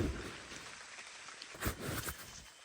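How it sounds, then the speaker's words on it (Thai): Heavy rain pours down outdoors in a steady, dense hiss, with a few louder splashes and patters near the middle. No voices can be heard. "ฝนค่อนข้างที่จะตกแรงนะ"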